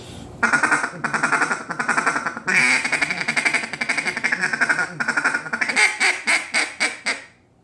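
A Timber Boss duck call blown as a feed call in a rapid run of raspy quacks, loud and close, with a steady stuttering rhythm and a quick burst of faster notes near the end.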